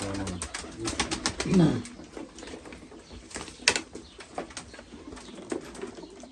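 Pigeons coo softly nearby, with a brief flutter of wings and scattered clicks, while a person speaks intermittently in the background.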